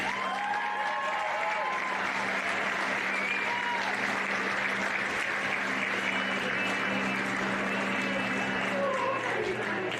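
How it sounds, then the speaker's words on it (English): A crowd claps for Fremantle City at a women's under-23 soccer grand final ceremony: a sustained, fairly distant round of applause with a steady hum and scattered voices beneath it. "one more big round of applause for Fremantle City today."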